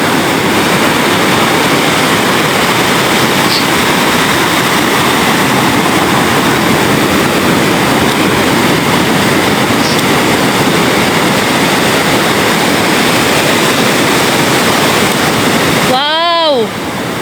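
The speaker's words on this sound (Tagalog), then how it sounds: "Ayan ang alon, no? Grabe." Strong sea waves driven by Typhoon Kristine crash and roar continuously at close range, a loud, dense wash of surf and wind that barely lets up, ending with a brief electronic beep.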